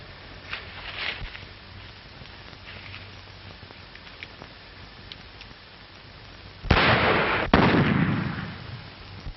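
Gunfire cracks out in a Western gunfight, a few scattered pops and then two loud close blasts with a rushing echo that trails off.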